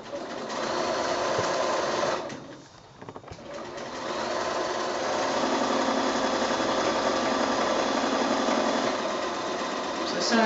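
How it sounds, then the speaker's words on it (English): A sewing machine stitching a quilt block seam with a short stitch length, a fast steady mechanical whir that pauses briefly then resumes, running continuously and close. "we're going to, again, sew right on that line"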